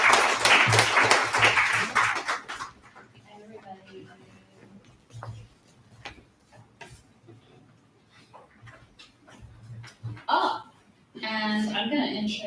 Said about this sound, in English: So round of applause for Stacey.